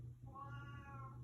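A house cat named Margie lets out a single drawn-out meow, close and fairly soft, over a low steady background hum.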